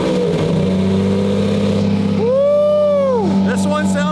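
A Lamborghini engine cold starts loud and close, settling into a deep, steady idle before a sharp rev climbs and falls, with a voice briefly heard over the engine.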